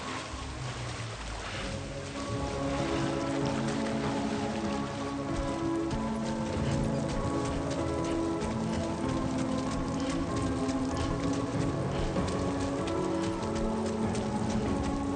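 Rain falls in a Kojima video game, a dense, even patter of many drops alongside steady tonal music, continuing at moderate loudness for the whole stretch.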